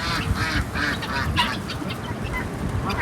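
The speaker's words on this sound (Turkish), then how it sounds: "Pekin ördeklerimiz var." Pekin ducks quack repeatedly in a noisy flock, a steady chorus of nasal calls close by with overlapping bursts throughout and no speech.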